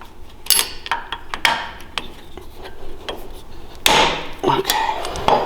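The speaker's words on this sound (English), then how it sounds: "And then just hammer down, baby." A hammer taps metal collars down onto a go-kart axle, giving several sharp irregular strikes with some scraping and rubbing between them, close by and fairly loud.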